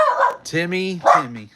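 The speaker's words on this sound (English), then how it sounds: "I do apologize about the dog" A dog gives a few short, close barks and yips within a second or two, mixed with a person's voice speaking.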